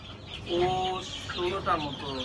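Silkie chickens cluck on a fancy poultry farm, several short rising and falling clucks close by over a low background murmur.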